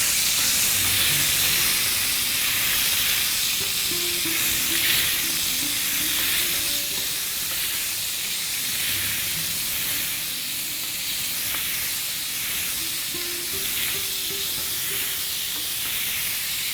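Minced lamb sautéing in a pan, a loud, steady hissing sizzle that runs unbroken for many seconds with faint background tones.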